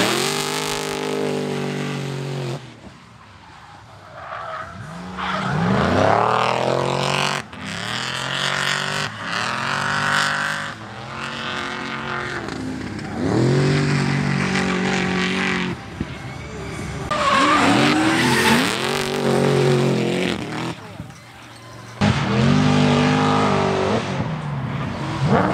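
A car on a practice run around a motor park track revs hard and skids, with tyres squealing in bursts between surges of acceleration and some talk over the top.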